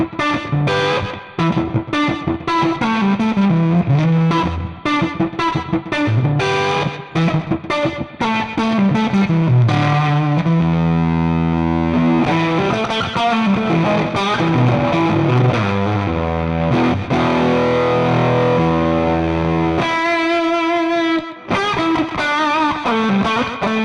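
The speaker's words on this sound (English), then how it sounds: "A little bit of slapback, and it might be something like this" Distorted electric guitar through a Fractal FM9 Nashville session preset with slapback delay, playing a busy melodic line of quick picked notes and sustained chords, loud and continuous with a short pause near the end.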